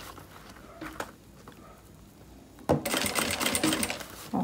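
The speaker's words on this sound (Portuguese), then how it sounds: "tô mostrando aqui certinho a volta todinha dessa costura pra vocês verem como que é" A sewing machine stitches a seam around a fabric pencil case. After quieter handling sounds, it starts with a loud, fast, steady whirring run that stops briefly, then resumes at the end.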